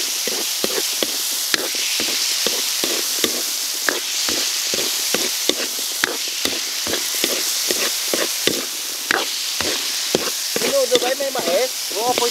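Potatoes, carrots and corn sizzle and crackle in hot oil for menudo, a steady close frying hiss broken by frequent stirring scrapes, with a brief voice near the end.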